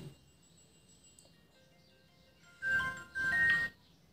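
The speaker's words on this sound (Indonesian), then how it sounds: "bunyi alarm ini bisa kita pilih ya nah seperti ini" A Vivo Y12s phone alarm ringtone plays two short bursts of electronic melody after a quiet stretch, clear and close.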